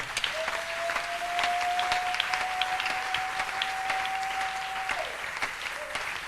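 A congregation at a prayer retreat applauds in a steady, dense patter of clapping that continues for several seconds, with a sustained held tone running beneath it.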